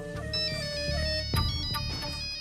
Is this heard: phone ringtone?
yes